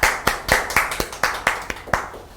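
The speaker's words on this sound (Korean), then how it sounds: "주님께 영광의 박수를 올려드리겠습니다." A church congregation claps in unison during a worship service, about nine sharp, evenly spaced claps in a steady rhythm, loud and close, with no talking.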